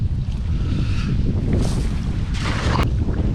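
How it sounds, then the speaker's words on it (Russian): Strong wind roars and buffets the microphone in a steady low rumble on a shore during cast-net fishing, with water splashing faintly underneath. "Сильнейший ветер."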